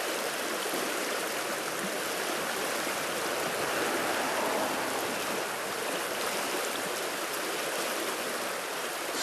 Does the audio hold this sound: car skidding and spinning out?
no